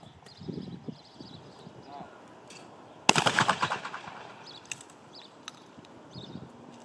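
A burst of rapid shotgun shots rings out mid-clip at a shooting range, sharp and loud, followed by a few scattered distant shots, with faint talking before and after.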